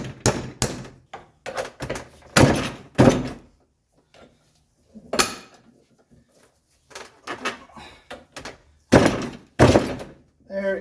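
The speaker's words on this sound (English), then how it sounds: "take a chisel, and we want to tap around the edges" Sharp metallic hammer taps on a chisel driving out a seal on a 1979 Mercedes 300SD, struck in uneven groups with brief pauses, loud and close in a workshop space.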